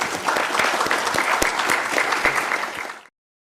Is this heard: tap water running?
no